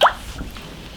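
A single wet plop as pork tripe is dropped into a pot for braising, a short sharp splash at the start fading quickly into near silence.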